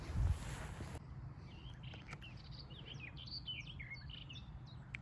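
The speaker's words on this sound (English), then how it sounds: "20 foot away from that willow warbler. It's just gone out there, been back in and out." Willow warbler calling on a nesting walk, short high chirps repeating through the clip at moderate distance, over low wind and background rumble, with a brief louder noise burst at the start.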